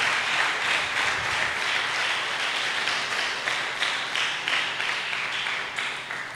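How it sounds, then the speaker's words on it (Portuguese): A church congregation claps in praise, loud and close, with a fairly rhythmic, pulsing pattern of many hands striking together continuously. "Aplauda ao Senhor."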